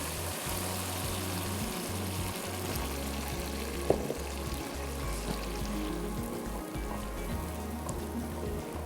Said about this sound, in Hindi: देखें ये भुन गया है, ऑयल जो इसका अलग होना शुरू हो गया है।